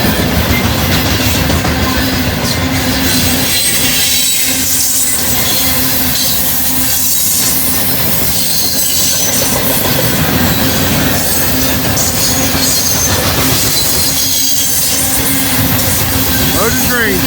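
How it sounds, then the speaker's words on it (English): A heavy loaded grain train rumbles past close by on Erlanger Hill, steady and loud, with metallic wheel squeal rising over the continuous roar and rattle of cars. "Loaded grain train."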